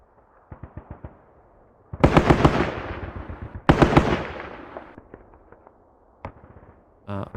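Gunfire in the tactical war game Squad Battles Eagles Strike: two loud, heavy blasts with long decaying tails stand out among scattered short pops and bursts of fire, ending in a sharp crackle.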